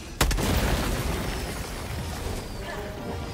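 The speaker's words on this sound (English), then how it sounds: "I'm tossing a grenade in" A grenade goes off in Helldivers 2, dropped into a bug hole: one sharp blast that rolls into a long, loud rumbling boom, with another hit at the very end.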